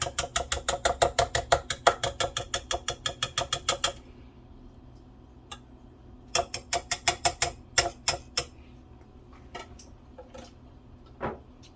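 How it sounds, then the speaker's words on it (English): A whisk clatters rapidly against a bowl while mixing sriracha lemon butter sauce for baked king crab, a fast metallic ticking run for about four seconds, then sparser scattered clicks and taps after a pause. "Let's see how well this whisk works. Here, whisk this up."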